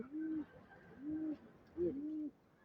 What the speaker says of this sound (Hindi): कबूतर दिखाती हूँ।